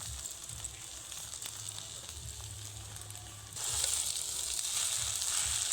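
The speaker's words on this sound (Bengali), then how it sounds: "এইবার এটাকে আরও 4 থেকে 5 মিনিট মতো নেড়ে নেব" Sabudana laddu mixture with sugar is stirred in a pan over low heat, giving a soft steady sizzle and scraping hiss that grows slightly louder and brighter partway through.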